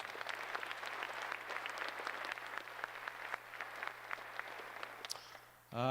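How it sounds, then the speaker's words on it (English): Audience at a high school senior awards ceremony claps steadily for the school board members, a dense, even round of applause that fades out near the end, with no talking over it. "Let's have a round of applause for our school board members."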